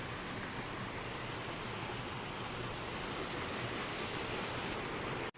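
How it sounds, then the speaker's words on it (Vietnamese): A waterfall pours down over large round boulders in a mountain stream, making a loud, unbroken roar that cuts off abruptly at the end. "Đây là những cái thác nước bên trên nó chảy ầm ầm xuống"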